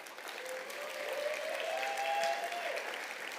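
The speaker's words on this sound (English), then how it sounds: "Give her a big round of applause" Audience applause at a startup showcase event as a speaker comes on stage: steady, moderately loud clapping from a crowd, continuous throughout with a few faint whoops or tones above it.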